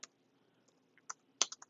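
Typing on a Brydge Bluetooth keyboard paired with an iPad, a sparse run of light key clicks, close and quiet, with short pauses between taps.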